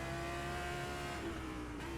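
An Audi GT3 race car drives Sebring in rFactor 2, its engine a steady, loud, high droning note held at speed for about two seconds with no voices.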